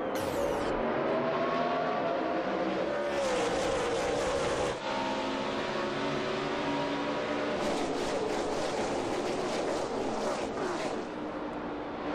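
Stock cars roar through a double file restart before about 152,000 fans at a 2010 NASCAR race, the loud, sustained engine drone rising and surging continuously as the pack accelerates, with no talk over it.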